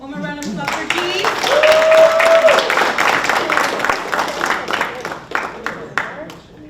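Graduation ceremony audience clapping steadily for several seconds, a full crowd applause under an announcer's voice that trails off as the clapping continues.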